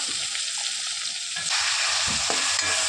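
Tomato drops into a pan of sizzling biryani powder, fennel, cinnamon and bay leaf for chicken kurma, the steady frying hiss swelling louder and fuller after it goes in, with stirring scrapes, no voices.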